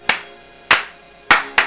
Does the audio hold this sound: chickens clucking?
no